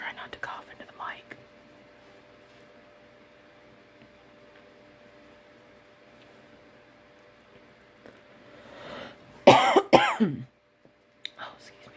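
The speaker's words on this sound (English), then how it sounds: "Try not to cough into the mic." A person coughs close to the microphone in a quiet, whispered setting, a brief cluster of sharp coughs near the end with a faint whisper earlier and low background hiss.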